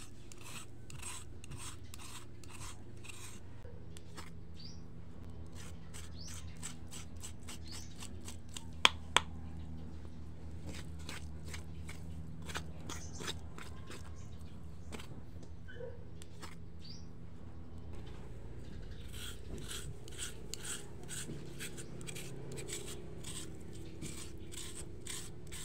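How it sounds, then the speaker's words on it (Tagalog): Coconut meat is scraped by hand on a grater in long runs of quick, rhythmic rasping strokes, close and distinct. A brief pause and a couple of sharp knocks break the scraping partway through. "Ngayon naman ay kudkurin na din itong mga buko."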